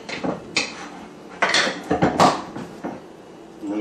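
A spoon or spatula scrapes around a bowl while hot mozzarella is kneaded, making several short, close clinks and scraping strokes in an irregular rhythm with quiet gaps between them.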